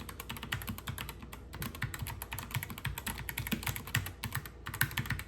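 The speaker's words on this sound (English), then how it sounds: "The clicky sound in the keys were very loud, very premium" Rapid clicky typing on a Kebohub EE01 mechanical keyboard, a dense stream of sharp keystrokes with no pauses, close and steady throughout.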